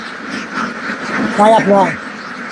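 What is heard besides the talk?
ducks quacking on a duck farm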